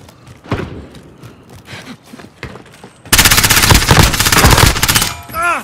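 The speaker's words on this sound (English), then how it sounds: "They're shooting at me." Automatic gunfire in Call of Duty: Warzone Resurgence erupts as a sustained, loud, close burst lasting about two seconds, preceded by scattered shots and game effects, with a whooshing sweep at the end.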